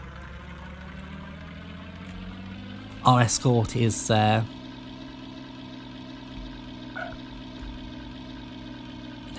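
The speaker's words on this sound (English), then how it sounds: "We press O for engine on" An aircraft engine in the Amiga flight game Knights of the Sky starts and settles into a steady, buzzing drone that runs throughout, with a short burst of talk over it partway through.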